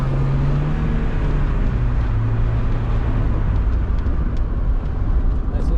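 A Mazda Miata drives along, its steady low engine drone and road rumble filling the cabin, loud and continuous, with a slight engine pitch shift partway through.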